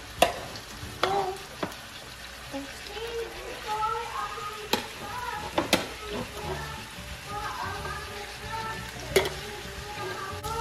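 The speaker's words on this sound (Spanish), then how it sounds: "Ahorita vamos a poner la carne a sofreír allá." Chicken sizzles as it stir-fries in a pan, with the crackle rising and falling under a few sharp utensil knocks and clatters, and a voice talks now and then.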